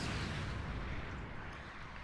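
A 360mm cannon fires in the mecha game Gundam Battle Operation 2, a dense, sustained explosive boom that fills the whole moment at steady loudness with no talk.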